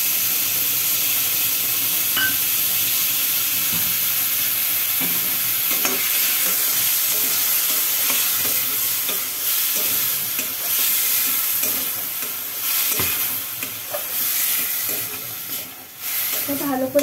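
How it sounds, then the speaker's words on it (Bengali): Spice paste of ground onion, garlic, ginger, chili and tomato sautés in a pan for a Bengali jackfruit and prawn curry, giving a steady close sizzle with stirring scrapes and clatters throughout. "ভালো করে কষাতে হবে।"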